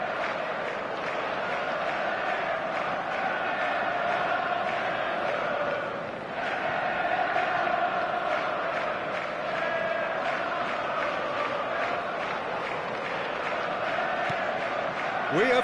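A stadium crowd in a PS4 sports video game cheers and roars steadily throughout, a dense continuous wall of noise with a commentator's voice over it.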